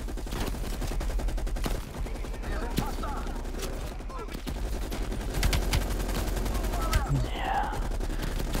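Heavy-weapon gunfire in Call of Duty Black Ops Cold War on PS5, a steady stream of loud shots with sharp bursts throughout, while people talk over the shooting.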